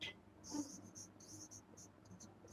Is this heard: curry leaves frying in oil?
no